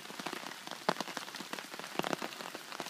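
Rain falling on a patched hammock tarp, a steady patter of irregular drops with occasional louder taps, close and fairly soft, with no voices.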